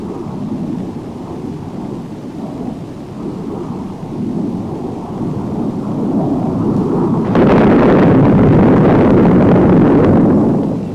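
Thirteen 750-pound demolition bombs dropped from an F-100 over Vietnam explode together as a long, rolling low rumble like distant thunder that swells louder near the end, with no talk over it.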